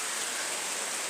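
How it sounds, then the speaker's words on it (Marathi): Heavy rain pours down in the Konkan countryside, a dense, steady hiss of drops pattering continuously and close by, with no voices over it. "बघा कसले टिपके पडत एकदम"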